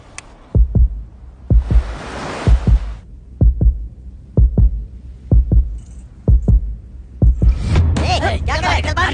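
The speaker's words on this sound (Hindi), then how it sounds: "मेरा दिल और तेजी से धड़कने लगा।" Fast heartbeat sound effect in a Hindi-dubbed film, a run of sharp paired thumps repeating at a quickening pulse, with a whooshing swell early on and busy dramatic sound building at the end.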